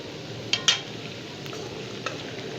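Golden-fried chicken pieces for a degi-style chicken korma stirred in a hot pan, with a steady close sizzle and two sharp utensil knocks early on, then another clink, no voices.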